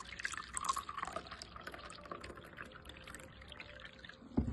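Two cups of warm water poured while making Egyptian country-style bread dough, a steady splashing pour with dripping, close and moderately loud, ending in a brief louder knock.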